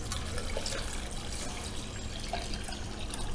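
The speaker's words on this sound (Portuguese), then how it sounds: "Eu coloquei três laranjas aqui e nós vamos colocar um litro d'água" Water from a one-liter measure poured over the peels of three oranges in a container, a steady close splashing pour that runs without a break, with no talk.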